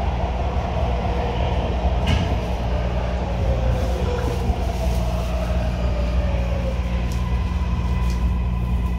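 A MARTA Gold Line subway train bound for Doraville rumbles along steadily, with low droning motor tones, rail noise and occasional clicks and squeaks from the cars.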